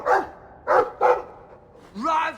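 A Mabari war dog in the video game Dragon Age II gives three close, sharp barks in quick succession, then a longer whining yelp, each separated by brief quiet.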